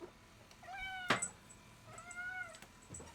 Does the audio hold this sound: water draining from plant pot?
no